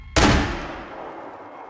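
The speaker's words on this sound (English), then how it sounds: "That sounded like a real gun." A single sharp gunshot from a real gun, apparently fired by hunters outdoors, cracks loudly and close, then its echo and rumble decay slowly over more than a second with no voices.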